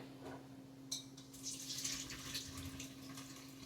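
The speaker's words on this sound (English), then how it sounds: "make sure we drain that water" Hot water drained off boiled potatoes into a sink, a soft running gush with splashing and dripping that swells and fades over a low steady hum, with no talking.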